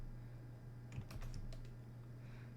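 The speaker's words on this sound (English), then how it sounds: "I should probably finish typing the name" A short run of keystrokes on a computer keyboard, quiet and close, over a steady low electrical hum, with no talking.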